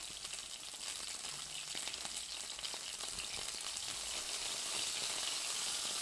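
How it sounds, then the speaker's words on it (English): A steak sears in a hot pan with a steady, dense sizzle and crackle, close and continuous throughout, with faint spattering pops. "I think this sear is almost done."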